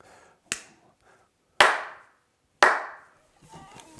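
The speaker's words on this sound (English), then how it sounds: "we'll do our little clap test" Three sharp hand claps, spaced about a second apart and close to the microphone, serve as a sync test during a piano unboxing. Each clap decays quickly into a near-silent room.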